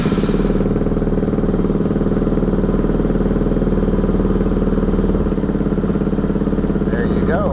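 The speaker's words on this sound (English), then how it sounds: "Start this engine." A Benelli TNT 135 motorcycle engine runs steadily close by, a loud, rhythmic chugging idle that holds throughout with no break.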